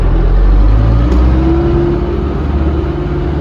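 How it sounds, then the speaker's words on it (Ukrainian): A tractor engine runs at maximum revs in third gear while sowing corn at about 7 km/h. It gives a loud, close, steady drone with no talking. "Максимальні обороти даю"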